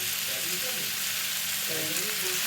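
Butter-brushed tandoori chicken roasts with a close, constant hiss of sizzling fat that runs evenly throughout, with faint voices murmuring underneath.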